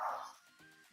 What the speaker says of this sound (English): that's our dog, office dog